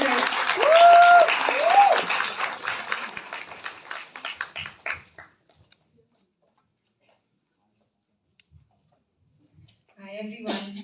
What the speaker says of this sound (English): A round of applause for Kajal ma'am, guys.